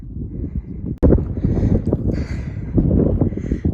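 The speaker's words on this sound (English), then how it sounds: "It's really windy up here," Strong wind roars steadily into the microphone, a dense low rumble with gusty buffeting and a brief dropout near the start.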